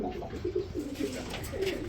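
Pigeons, large breeds for sale at a pigeon market, coo softly in low repeated calls, fairly close, with faint background murmur.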